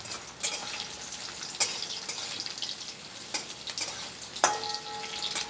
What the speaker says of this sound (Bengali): গাজরটা যাতে তাড়াতাড়ি ভাজা হয়ে যায়